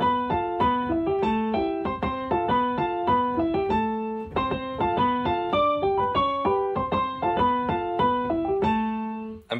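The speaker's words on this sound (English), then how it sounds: "Montunos are a rhythmic style of playing chords which originate in Cuban music." Cuban salsa piano montuno: syncopated, rhythmically arpeggiated chords played solo on piano, bright and close, with a steady repeating pattern of octave-doubled notes and no voices.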